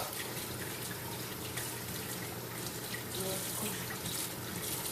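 A kitchen tap runs steadily as carrots are rinsed under it, a continuous hissing water stream with faint shifts as the vegetables are moved, no talking.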